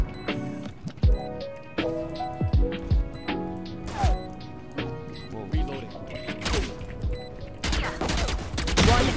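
Rapid pistol shots from a shooter video game crack out in quick, uneven bursts, some close and loud, with game sounds and occasional talk in the background throughout.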